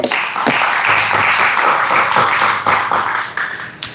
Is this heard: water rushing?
no